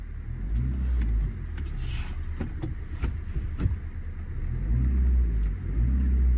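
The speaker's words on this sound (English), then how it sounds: "So the engine sounds really lovely." A Ford Transit refrigerated van with about 90,000 miles idles steadily nearby, its engine giving a low, even rumble with a few faint clicks on top and no voices.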